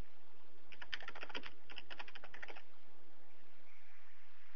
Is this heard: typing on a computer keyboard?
yes